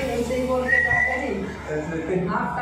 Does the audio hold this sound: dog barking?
no